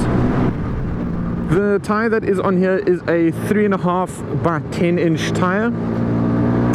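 An LML Star Deluxe 125 scooter cruises along at a steady pace. Its engine hums low and constant beneath someone talking close up.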